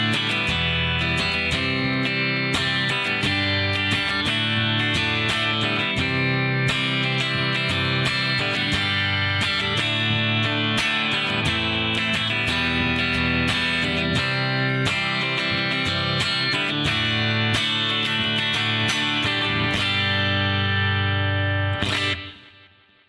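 Electric guitar with effects and distortion strums an eight-bar chord progression in a steady rhythm, moderately loud and close, then rings out and fades at the end, with no talk.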